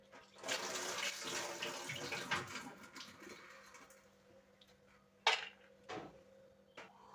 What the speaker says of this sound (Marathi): आपल्या सगळ्या डाळी धुतल्या गेल्या